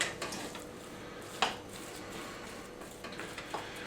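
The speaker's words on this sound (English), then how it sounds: "You just mix your veggies through." Vegetables are stirred through mashed potato in a bowl, producing soft, quiet scraping and a few light spoon-on-bowl clinks, including one sharper knock partway through.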